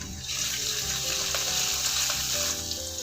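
Chopped ginger and garlic sizzling in hot oil in a wok, a loud, continuous close-up frying hiss with faint stirring scrapes throughout.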